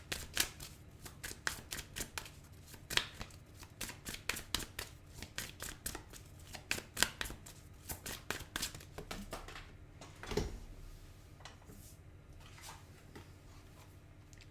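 Tarot cards being shuffled and drawn for a pick-a-card reading, giving rapid, crisp riffling and flicking close by, then slowing into a few softer slides and taps as cards are pulled.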